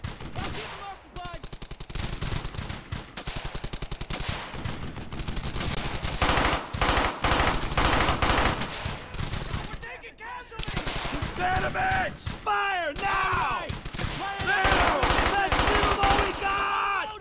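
Machine gun fire in Brothers In Arms Hell's Highway, long rapid bursts of automatic gunfire rattling almost continuously at close range, with brief gaps, while soldiers' voices call out over the shooting.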